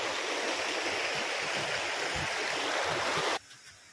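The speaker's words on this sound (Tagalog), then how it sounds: "Tunog pa lang ng tubig." Water rushes steadily along the stream at Daranak Falls in Tanay, Rizal, a loud, constant broadband roar close by that cuts off abruptly near the end, leaving quiet outdoor ambience.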